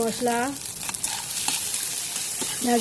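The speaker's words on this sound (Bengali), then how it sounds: "এখন আমি সুন্দরভাবে নেড়ে চেড়ে ভেজে নেব" Raw green peas frying in a pan for Iranian-style pasta, a steady sizzle with scraping stirs, while a voice briefly speaks or hums over it at the start and end.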